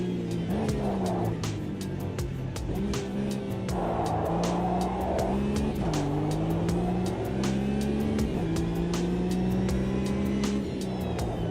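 Porsche race car engine in a sim racing game drones loud and continuous, its pitch rising and dropping through repeated gear shifts, with rapid ticking clicks running over the top and no talk.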